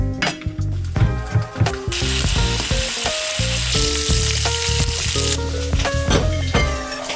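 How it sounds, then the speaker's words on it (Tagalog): Bacon sizzles and spits loudly in a pan, a dense continuous crackle with scattered clinks and stirring scrapes from utensils, close up and without talk. "we're going to cook bacon silog"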